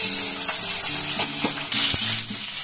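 Cumin powder goes into spices already sizzling in a pan with tomato and a ginger, garlic and onion paste, giving a continuous close hiss with stirring scrapes and a brief louder burst.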